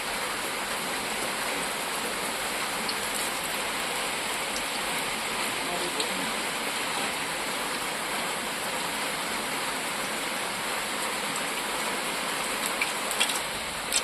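Heavy rain from Cyclone Fengal falls over a village as a steady, dense hiss that holds without break, with a few faint clicks and knocks scattered through it.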